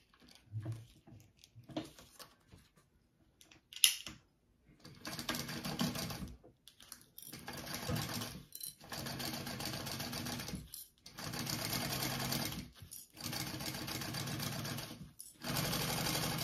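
A sewing machine top-stitches backpack fabric in several loud, steady bursts of rapid mechanical stitching, separated by short pauses and a sharp click near the start.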